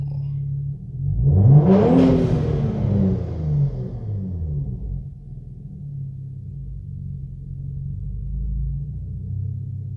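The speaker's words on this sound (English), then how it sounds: "But I still hear the blow off sound, so I guess everything's good." A V-Sport car engine idles, then revs sharply with a rising roar and a breathy turbo blow-off valve burst at the peak, before settling back to a steady low idle.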